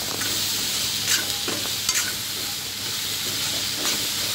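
Turmeric and aromatics sauté in a pan for Mumbai-style egg bhurji, giving a loud, steady sizzle and hiss broken by occasional stirring scrapes close by.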